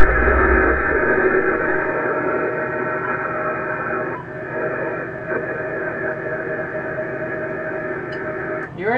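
Amateur radio receiver hiss and static during a contact, steady and loud throughout, with a weak signal barely rising out of the noise and no voices.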